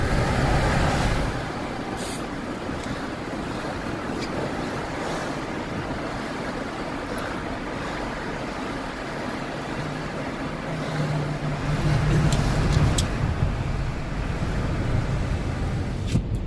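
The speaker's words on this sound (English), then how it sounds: "that white truck is an old truck" An old white truck rolls along the road beside a car with its vent open, producing a steady broadband road rumble that swells as it draws close near the end.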